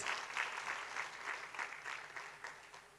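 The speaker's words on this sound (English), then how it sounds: "Let's give a warm round of applause as we take these commemorative photos." Warm, sustained applause from a conference audience at a World Without Hunger gathering, steady clapping that swells and dips slightly during commemorative photos.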